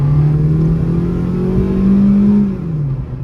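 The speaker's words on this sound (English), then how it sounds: "Let's try to accelerate a little bit more." A Proton Saga FL engine revs up steadily under acceleration on a straight road, its whirring pitch climbing then easing off, heard from inside the car.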